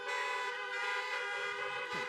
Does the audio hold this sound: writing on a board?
no